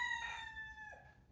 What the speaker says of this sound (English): If you just heard a rooster, it's because I'm in Kauai right now and there's roosters everywhere.